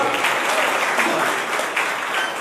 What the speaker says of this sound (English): Only they are clapping, you are not clapping.